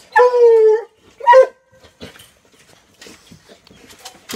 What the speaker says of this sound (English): She's an English coonhound.